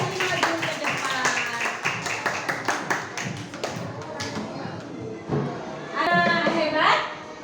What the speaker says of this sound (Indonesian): Beri tepuk tangan buat semua teman yang berani maju ke depan.